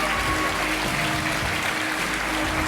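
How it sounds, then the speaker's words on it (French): A French TV game show studio audience applauds warmly, with dense, steady clapping that fills the room throughout, without pauses or talk. "on peut quand même l'applaudir fort"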